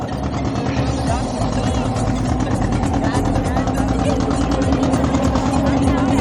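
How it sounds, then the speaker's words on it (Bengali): A boat's engine drones steadily and close by, a low continuous rumble with a loud, even level, while voices talk over it. "আর এখানে কজন লোক উঠবে তাই জন্য বোটটা একটু স্লো করলো"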